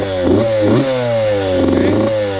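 A Yamaha YZ65 dirt bike with an FMF Turbinecore 2 spark arrestor exhaust idles with a buzzy two-stroke drone, then blips its throttle in short rising revs, loud and close with no talking.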